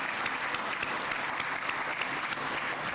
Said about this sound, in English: I think we need a big round of applause for every one of those Encouragement Award winners.